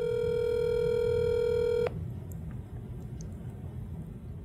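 A telephone line carries a steady electronic tone for about two seconds that cuts off abruptly while a cell phone number is called, leaving faint line hiss and a few soft clicks.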